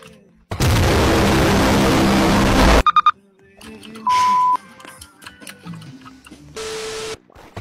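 A loud, harsh phone ringtone in the Roblox video game blares as a long, distorted burst, then gives way to short electronic beeps and tones with scattered clicks.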